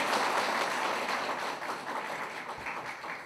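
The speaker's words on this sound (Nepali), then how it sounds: "जसरी अहिले तपाईँहरूले ताली बजाउनु भयो" An audience at a Nepali political speech applauds, a dense, even wash of clapping that holds steady for a few seconds and eases slightly toward the end, with no voices over it.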